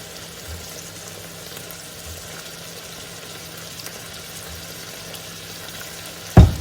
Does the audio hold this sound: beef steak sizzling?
yes